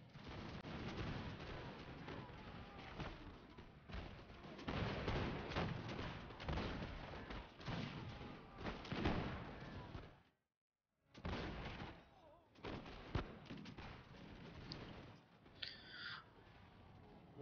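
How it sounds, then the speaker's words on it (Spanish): Artillery cannons fire in a massed Empire: Total War battle, a dense, sustained barrage of booms and volleys with one short gap of silence before the firing resumes. "La clave ha sido poner la artillería en este hueco y que disparara."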